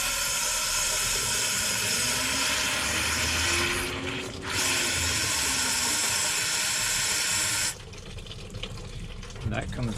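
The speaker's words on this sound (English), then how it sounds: "if I spray down into the water pump here" A garden hose sprays water down into the water pump of a Volvo B20 engine, a loud steady hiss and splatter that drops out briefly around the middle, then cuts off near the end, leaving quieter dripping and handling.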